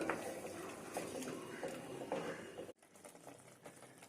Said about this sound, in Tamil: தக்காளி நல்லா கொதிக்க ஆரம்பிச்சிருச்சு.